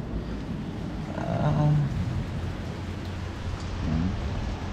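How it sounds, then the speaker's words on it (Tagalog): Steady rain falls outside a hotel in Marinduque, a soft, even hiss with no voices, and a brief faint knock near the end. "Umuulan pa rin dito sa labas."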